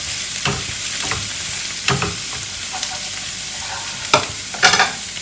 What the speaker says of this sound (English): Now you add your coriander powder. Fry for a minute or two.